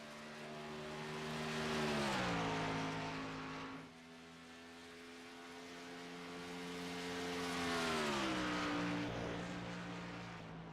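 Race car engines in an iRacing Xfinity Series race at Homestead Miami drone steadily with a harmonic tone that swells, dips as the cars lift, then rises again while accelerating past, over a faint background hum.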